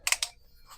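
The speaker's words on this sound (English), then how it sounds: "you can hear that like ratchet type sound" A tool on the bolt head of an M60E6 gas system gives a brief quick burst of three ratcheting clicks, close and crisp, then quiet.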